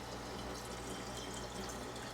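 Filtered refrigerator water pours into a container for southern sweet tea in a steady, continuous splashing rush, close and even in level from start to finish.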